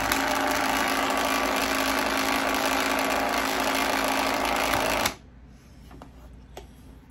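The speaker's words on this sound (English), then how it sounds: "I'm just going to put this one back on here, shake it up because i got to use it" Paint shaker rattling a bottle of hobby paint: a loud, steady mechanical buzz that runs for about five seconds and then cuts off abruptly, leaving a quiet room with a few small clicks.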